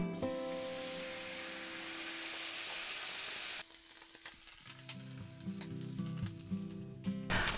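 Half a cup of red drinking wine hits a hot pan after boneless beef ribeye steaks, bursting into a loud hissing sizzle that cuts off abruptly, then bubbling and utensil clinks close by.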